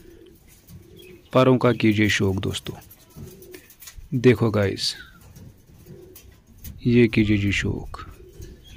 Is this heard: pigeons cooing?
yes